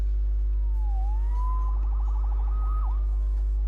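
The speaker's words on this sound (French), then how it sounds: "Sauvé par les sirènes." A siren wails in rising and falling tones with a rapid warbling passage, over a constant low hum.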